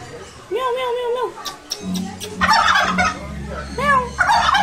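A turkey with its tail feathers fanned gobbles in two bursts nearby, with a person talking and other background voices around it.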